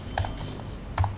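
Computer keyboard typing in a quiet room: two short bursts of key clicks, one early and one near the end, with faint scattered taps between them and no voices.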